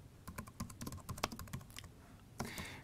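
Rapid, uneven keystrokes on a computer keyboard as Cisco switch interface configuration commands are entered, a close cluster of clicks with a brief pause before a final burst, no voices.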